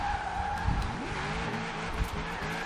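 Tires skid and squeal as a 1200+ HP LS7-powered limo drifts through snow in Forza Horizon 4, with a steady droning engine under continuous, loud tire scrub and no talking.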